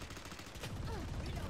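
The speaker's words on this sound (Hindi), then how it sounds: "अभी भी वाइपर अंदर में है और मशीन गन से गोली चला रही है" Dense, rapid machine gun fire in the tactical shooter Valorant, fired from inside a site by the agent Viper, a dense burst mixed with game effects in a short, busy moment.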